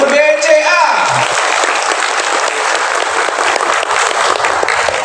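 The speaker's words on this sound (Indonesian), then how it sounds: "Sekali lagi tepuk tangan untuk BCA." Audience applauding for BCA at a Riau Islands cooperatives and small-business event, a brief voice at the start giving way to steady, dense clapping that carries on evenly.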